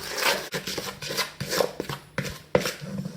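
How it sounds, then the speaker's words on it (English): A wooden spoon scrapes and stirs spiced ingredients, seasoned with cayenne pepper, around a bowl in rhythmic rasping strokes, close and clear with no talk. "Get your wooden spoon and mix it all together."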